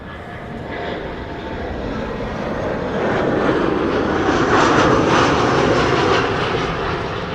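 A Lufthansa Airbus A319 on arrival from Frankfurt, a steady broadband engine roar that swells toward the middle and stays loud throughout, heard alone without talk.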